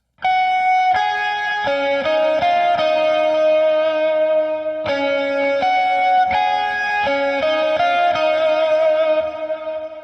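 An electric guitar through a Line 6 Helix plays a sustained, effected lead line from a song's chorus, notes gliding and ringing continuously with reverb and drive for about ten seconds, alone.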